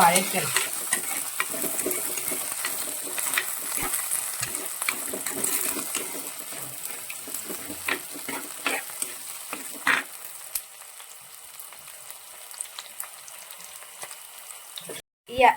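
A curry base with kudampuli, for a toddy-shop style catfish curry, sizzles steadily in hot oil while a spoon scrapes and clinks through it. The frying stays fairly loud, then thins out near the end.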